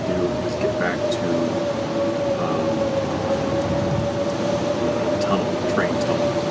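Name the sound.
blizzard wind in The Long Dark video game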